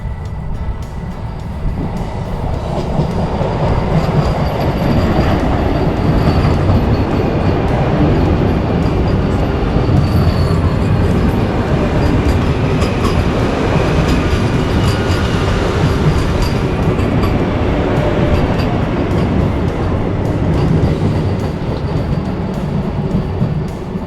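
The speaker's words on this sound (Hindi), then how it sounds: "ये थी 22349 पटना से चल के रांची आने वाली वंदे भारत, जो कि BIT मिश्रा रेलवे स्टेशन पे आ चुकी है" Patna–Ranchi Vande Bharat Express (22349) pulling into platform 2 at Mesra railway station, a loud steady rumble of wheels and carriages rolling past close by for the whole stretch, with no talking.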